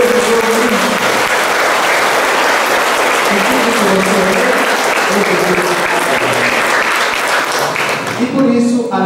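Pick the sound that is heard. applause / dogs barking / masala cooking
applause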